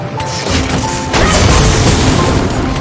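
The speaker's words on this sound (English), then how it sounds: "every time you attack the monster, it does extra explosion damage" Charge Blade sword strikes in a monster-hunting video game set off loud booming explosion impacts, a heavy crash followed by a rumbling burst.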